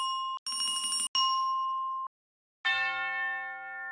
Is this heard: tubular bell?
yes